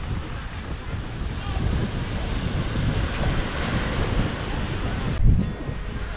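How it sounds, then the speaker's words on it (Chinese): Waves wash steadily onto a rocky pebble beach in a cove on the Yilan east coast of Taiwan, a continuous surging roar mixed with gusty wind buffeting the microphone. "然后听那个海浪的声音"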